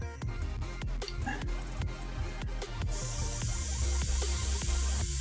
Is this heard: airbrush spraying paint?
yes